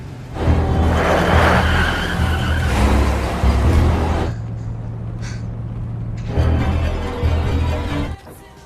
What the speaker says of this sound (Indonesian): ia pun berhasil kabur membawa mobil milik Tricia